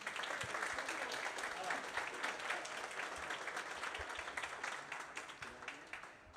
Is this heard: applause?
yes